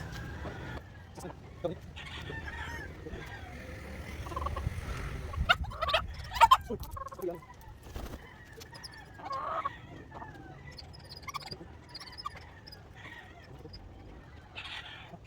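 White Leghorn cross and Black Australorp chickens cluck in a scattered, uneven chorus at moderate distance, with occasional louder calls and some faint background voices.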